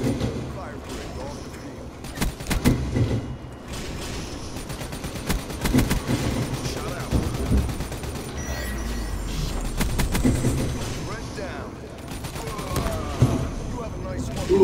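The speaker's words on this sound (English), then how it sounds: "Shotgun." Gunfire from a shotgun in Call of Duty: Black Ops III during a free-for-all match on the Aquarium map: repeated loud shots and bursts of fire over continuous game noise, with a player talking throughout.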